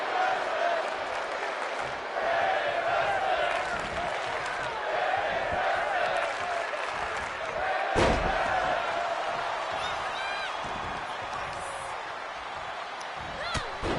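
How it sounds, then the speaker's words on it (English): A wrestling video game crowd drones in a steady chant and roar throughout, with a sharp slam-like thud midway and a commentator's voice talking over it. "Crowd chanting for women's wrestling"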